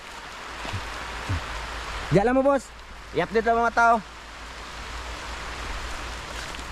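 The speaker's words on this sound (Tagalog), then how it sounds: "Ulan man mga idol." Heavy rain falling outdoors, a steady broadband hiss throughout, with someone speaking briefly over it.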